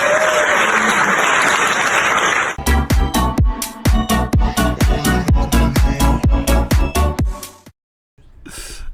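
Loud, close applause from a talk-show audience, a steady run of sharp, rhythmic claps that stops abruptly near the end, briefly resumes after a short silence.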